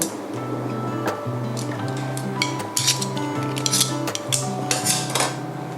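A knife cuts through grilled Thai sai ua sausage with short scraping and clicking sounds over a steady background hum, close to the listener.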